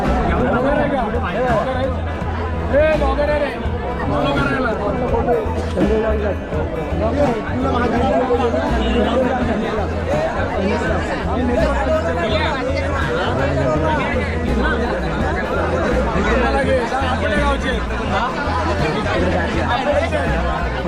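Dense crowd chatter fills a packed morning Diva train, many overlapping voices forming a steady, loud babble with no gaps, under a low rumbling hum.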